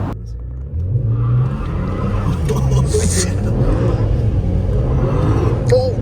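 BMW 335i accelerating hard with wheelspin while the transmission struggles to shift and downshift, a loud sustained engine rumble and revving throughout under ongoing talk.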